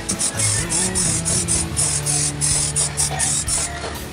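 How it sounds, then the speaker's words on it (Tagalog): Continuous hissing spray of a flat white spray paint can coating a fishing plug lure, steady and fairly loud with slight pulsing and faint tonal hum underneath, no speech. "Gamit po yung spray paint na flat white."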